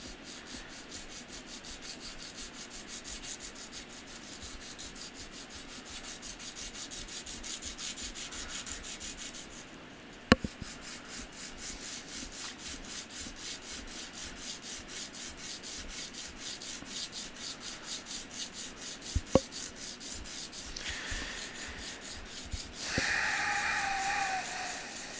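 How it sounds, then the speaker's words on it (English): Hand sanding with sandpaper in a workshop during a DIY CNC machine build, long steady back-and-forth scratchy rubbing strokes, close and moderately loud, broken by a few sharp knocks and clicks near the middle and end. "I guess I could do my sanding. Got my trusty old sandpaper."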